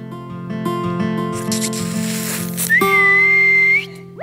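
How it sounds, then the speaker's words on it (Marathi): On a Marathi comedy stage show, a person lets out one clear, sustained high whistle lasting about a second after a stretch of tonal background sound. "ए, तू शिट्टी का मारलीस?"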